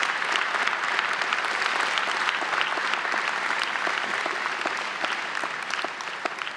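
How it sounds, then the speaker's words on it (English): Applause from the audience at a law school commencement ceremony, a broad, even wash of many hands clapping, moderately loud and sustained without pause. "You too deserve a round of applause for the support,"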